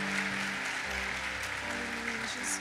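A church congregation applauds during a worship service, a steady, dense clapping sound filling the room with a faint sustained organ or keyboard tone beneath it.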